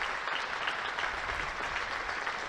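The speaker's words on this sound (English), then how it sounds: "Good round of applause as well from this crowd." A cricket crowd at a county match applauds a batter's half-century, a steady, even wash of clapping heard from a distance that carries on throughout.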